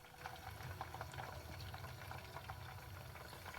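Aubergine pieces fry in hot oil, a steady faint bubbling sizzle with dense tiny crackles throughout and no talking.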